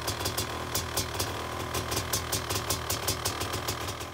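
A Honda CR500 two-stroke motorcycle engine runs steadily near the mic, with a fast rhythmic pulsing and a rattling, vibrating knock at each beat.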